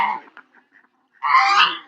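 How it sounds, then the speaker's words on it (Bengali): Ducks by a riverside ghat honk nearby: one short call, a quiet pause with faint sounds, then a longer, louder honking burst. "দেখুন বন্ধুরা, হাঁসগুলো কত সুন্দর পা নড়িয়ে নড়িয়ে চলে যাচ্ছে, সেগুলো দেখা যাচ্ছে।"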